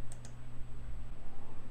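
Two quick, light computer mouse clicks close together near the start, then only a low steady hum.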